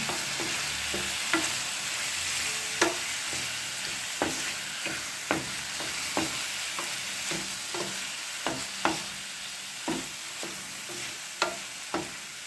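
Prawns frying with turmeric and salt in a pan, a continuous close sizzle overlaid by a steady rhythm of sharp spatula scrapes and taps against the pan, with no talk.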